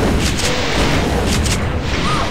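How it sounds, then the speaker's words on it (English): A homing rocket launches in the Doom 2 video game with a brief, loud, roaring blast that fills the whole moment. "homing rocket"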